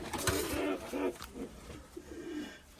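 Crested, shaggy-footed pigeons give soft cooing calls close by, several low throaty coos in a loose rhythm over faint background noise.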